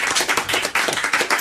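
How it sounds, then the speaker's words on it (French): A French TV studio audience applauds for a guest, dense continuous clapping with a steady rhythm throughout, fairly close and full. "On applaudit Serge Liado."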